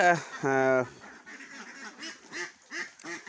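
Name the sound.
ducks on a duck farm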